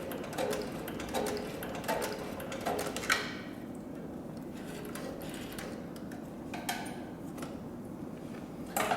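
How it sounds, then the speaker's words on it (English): A leather-stitching machine for saddlery and leather goods sews backward through material, giving faint, quick ticking clicks in two bursts separated by a quieter stretch, with no voices. "now we're going to go ahead and sew in reverse"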